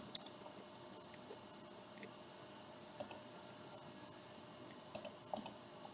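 Computer mouse clicks while drawing a dog-legged staircase in CAD software, faint sharp clicks arriving in small pairs and clusters over a quiet room hum.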